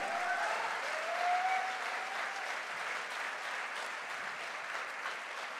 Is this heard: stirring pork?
no